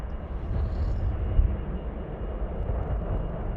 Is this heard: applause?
no